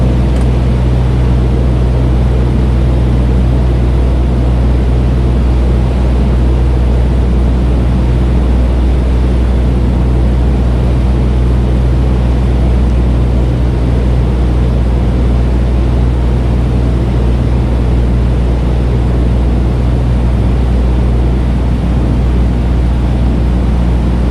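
A small training plane accelerates for takeoff on runway 29 during touch-and-go practice, its engine a loud, steady drone and roar filling the cabin throughout, with no voices over it.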